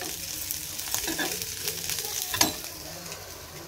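Fish-bladder chorchori sizzles steadily in a pan while a spatula scrapes and stirs it in irregular strokes, with one sharper scrape near the end, close and even, with no talking.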